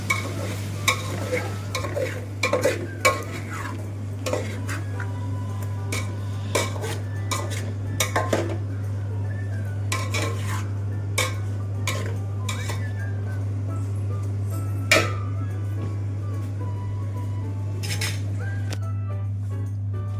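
A spoon stirs veg palav in a pot, with repeated metallic scrapes and clinks over a low sizzle and a steady hum, close and unhurried, with no talk.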